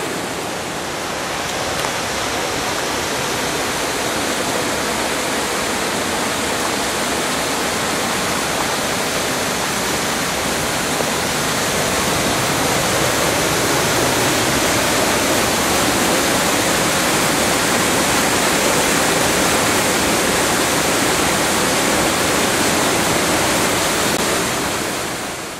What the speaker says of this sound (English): enjoy the waterfalls here behind me